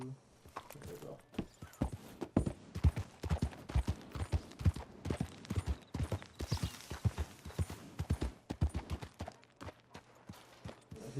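Rhythmic clip-clop of horse hooves in Red Dead Redemption 2, walking steadily on a hard surface, close and evenly paced, with faint background sounds.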